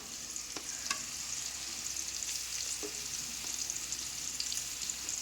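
Minced keema fries in oil, a faint but steady hiss of sizzling fat with occasional light taps and scrapes from stirring, heard close with no voices.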